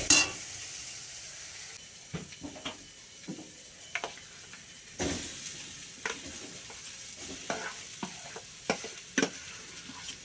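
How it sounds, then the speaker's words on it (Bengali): Potatoes fry with a soft, steady sizzle in a wok, punctuated by repeated clinks and scrapes as a ladle stirs them, close and fairly quiet. "এবার দিয়ে দিলাম কড়াইতে এবার নাড়বো বেশ করে তাকে নাড়ব"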